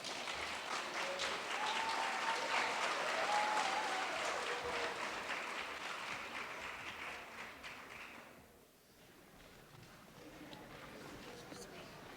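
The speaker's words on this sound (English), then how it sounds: "So let's welcome them with a round of applause." Audience applause fills a town hall with a senator present, sustained and fairly distant clapping from a large crowd that swells, dips near the end and then picks up again.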